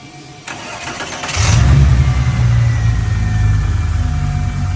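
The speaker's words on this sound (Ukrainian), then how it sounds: "А зараз зараз можна навіть послухати звук цього мотора, зараз Тьома запустить" A Volkswagen Golf car engine cranks and fires up, then settles into a loud, close, deep rumbling idle with slight revving, alone without talk.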